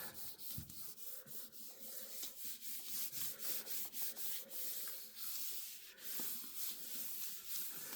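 Paper is rubbed by hand onto a gel printing plate over a stencil: soft, quiet, rhythmic scuffing strokes repeated steadily, close and faint, with no talk.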